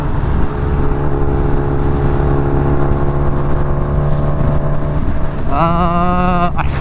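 A Kawasaki Ninja H2R motorcycle engine drones loud and steady while riding, its smooth tone holding before rising into a sharper rev near the end.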